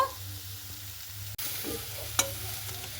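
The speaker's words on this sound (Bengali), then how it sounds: "আর এখানে আমি একটা গ্রেটার নিয়েছি। তো আলু দিয়ে গ্রেটারটা দিয়ে খুব ভালো মতো করে কিন্তু আমি গ্রেট করে নেব।" Boiled potatoes rubbed against a kitchen grater, a continuous close rasping scrape with a couple of sharp clicks partway through and no talking.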